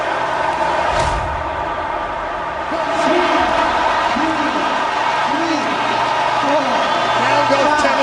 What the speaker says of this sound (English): The crowd is going delirious.